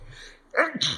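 A single sharp sneeze from a man during a studio discussion about car suspension systems, loud and close, bursting out after a quiet pause.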